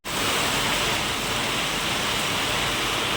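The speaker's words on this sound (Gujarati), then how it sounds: "ધોધમાર વરસાદ ચાલુ થઈ ગયો છે જુનાગઢમાં" A dense, constant roar of a sudden heavy downpour in Junagadh, loud and unbroken throughout, with no voices.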